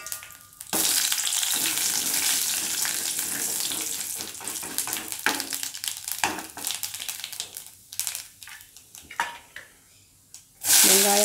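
Mustard seeds, urad dal and curry leaves crackle and sizzle in hot oil for a kootu, a dense steady frying hiss that thins into intermittent pops and spits, with a louder burst at the end; no talking.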